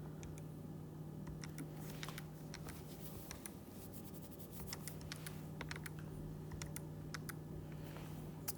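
Graphing calculator keys pressed in quick succession to enter a function, a run of light, close plastic clicks over a steady low hum.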